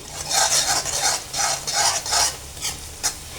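Egg being scrambled in a pan, with rhythmic scraping stirs over a soft sizzle, several strokes in a row that trail off near the end, close and without speech.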